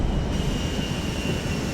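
A steady, loud airplane engine drones in GTA Online, a continuous broad roar with a faint high whine running under it and no break.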